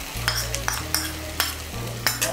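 A paste of ground sesame, poppy seeds and green chillies is stirred in hot oil in a pan, with a soft steady sizzle and repeated scraping strokes of the spoon, close and moderately loud.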